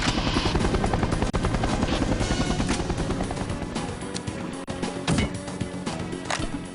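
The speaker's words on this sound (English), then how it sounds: "That helicopter will try and catch you as you run by" Helicopter in the video game The World is Not Enough, a loud, continuous rotor chop throbbing steadily close by, with sharp gunfire cracks and impacts breaking through toward the end.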